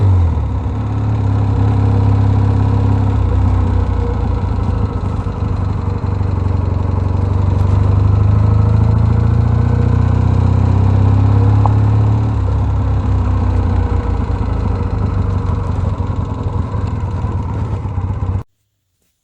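A 1979 Triumph Bonneville Mk2 motorcycle with Amal carburetors runs loud and close for about eighteen seconds, a steady, throaty engine drone that swells slightly midway, then cuts off abruptly.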